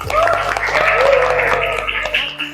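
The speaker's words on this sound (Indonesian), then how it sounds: "Tepuk tangannya mana ini?" A class of participants in an academic coaching session gives a sustained burst of dense clapping that carries steadily for over two seconds, close and fairly loud, then fades out.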